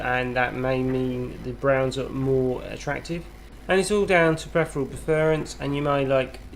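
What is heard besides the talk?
No everyday noise stands out behind the speech.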